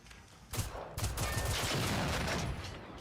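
Enemy gunfire in the video game Generation Zero, a burst of rapid shots that starts abruptly and continues as sustained, fairly quiet rattling fire with no talk.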